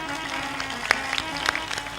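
Audience applause at a spiritual discourse honoring a donor for ashram construction, a fairly steady wash of clapping with a few sharper claps standing out, moderately loud with no talk over it.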